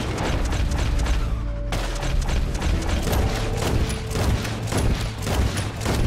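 Sustained gunfire in the western video game Red Dead Redemption 2, a dense, loud barrage of repeated shots and mechanical clatter in a steady rhythm, close and continuous with no talking.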